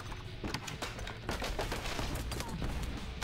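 A horizontal laser gun in the video game Earn to Die Rogue fires in a dense, rapid stream of short bursts, steady and loud across the whole stretch over a rumbling game background.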